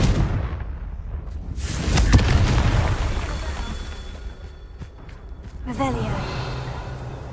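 Confringo blasting-curse explosions in Hogwarts Legacy burst with deep booms and crackling impacts, several blasts in succession mixed with game effects and a voice shouting.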